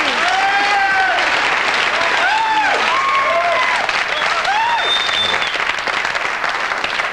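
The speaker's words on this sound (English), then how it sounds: "People are still applauding the monologue." Sustained, loud applause from a TV studio audience after a late-night talk show host's monologue, a dense steady wash of clapping with cheers and whoops rising over it throughout.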